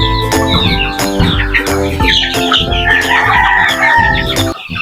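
Pet chickens near their feed cluck loudly and continuously at close range, with repeated sharp calls and a crowing rooster mixed in, forming a busy, overlapping chorus from start to finish.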